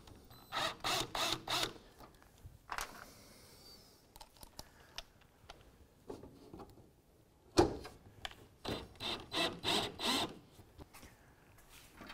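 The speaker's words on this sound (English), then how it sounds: "I'm going to get all my screws started." Small screws being started by hand into the hood of a Ford Mustang, giving quick bursts of close, dry metallic ratcheting and clicking in several clusters separated by short pauses.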